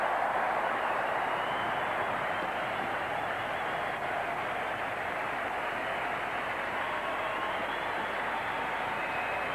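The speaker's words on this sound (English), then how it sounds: "He's acknowledging the applause there." A cricket crowd at a one-day international between Australia and the West Indies applauds Ponting reaching his fifty. The applause is a steady, distant roar of the stadium that carries on unbroken.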